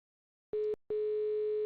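A telephone line dial tone plays alone as a steady electronic hum: a short burst, a brief gap, then a longer unbroken tone, close and clear.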